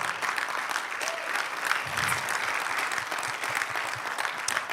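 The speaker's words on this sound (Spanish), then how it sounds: "Dale fuerte ese aplauso, por favor." A church congregation claps loudly at a Spanish-language evangelical service, a sustained, even wash of many hands that holds steady throughout.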